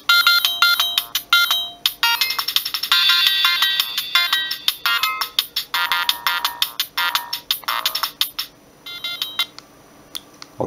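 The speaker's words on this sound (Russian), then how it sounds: "Вот так выглядит, короче, звонок." Siemens A70 mobile phone ringing with its polyphonic ringtone, a loud, fast run of bright electronic beeping notes that repeats steadily, close and alone without any talk.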